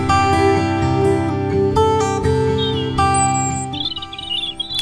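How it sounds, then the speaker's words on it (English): Thin, high robin chirps come in over loud sustained background music, a few brief calls growing busier toward the end. "hang on, was that one or two robins?"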